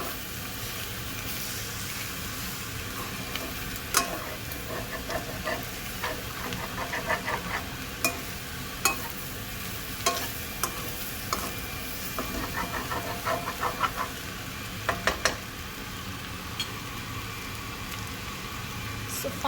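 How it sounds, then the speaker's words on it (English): Egg and vegetables sizzle steadily in a hot pan for egg fried rice, with a constant frying hiss and scattered sharp crackles and spatula clicks throughout. "So the egg is gonna get mixed with the veggies."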